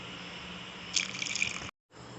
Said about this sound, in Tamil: அடுத்தது புளித்தண்ணி ஆட் பண்ணிக்கலாம்.